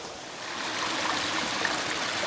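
Water cascades down a waterfall and stream at Glen Achullish, a steady, dense rushing wash that stays close and constant throughout, with no voices.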